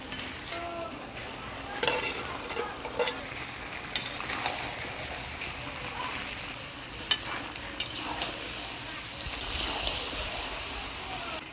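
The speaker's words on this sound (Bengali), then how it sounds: "সব কিছু দিয়ে ভালো করে নাড়াচাড়া করে নিলাম।" A pan of fried pumpkin, potato and eggplant with a fish head and greens is stirred, giving soft repeated scrapes and light sizzling over a faint steady background.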